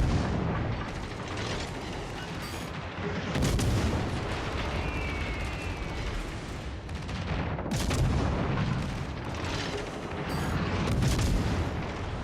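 Warship guns fire in World of Warships Legends: heavy booming salvos roll out in repeated waves over a constant loud mechanical rumble, with no talking.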